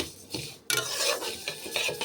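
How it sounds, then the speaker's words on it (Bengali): Mung dal is stirred while dry-frying in a pan, giving a close, rough scraping rasp with repeated strokes of the spoon over the grains. "ডালটা ভাজা ভাজা হয়ে গেছে আর একটু ভেজে নেব"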